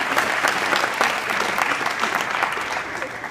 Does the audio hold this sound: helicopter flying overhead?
no